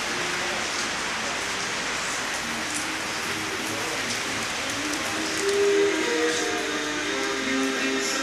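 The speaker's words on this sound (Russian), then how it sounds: "Приятно встретить снова дождь. Летний ливень такой, зимний ливень." A summer rain shower in Thailand pours down steadily, a broad, even hiss of falling water that swells briefly louder midway, with no voices.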